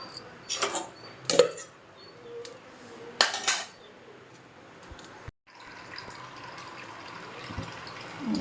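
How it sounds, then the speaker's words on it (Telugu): Lid set onto a pot of simmering sambar in a kitchen, two sharp metallic clinks at close range, then a soft bubbling hiss from the pot with a few faint clicks. "మూత పట్టేసి బాయిల్ చేసేద్దాం."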